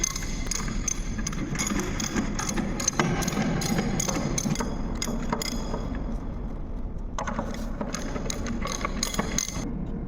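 Nuts being tightened in an opposite, crosswise order on a ship's fuel tank manhole cover, heard as a run of sharp metallic clanks and taps, irregular and close, with a few heavier knocks among them.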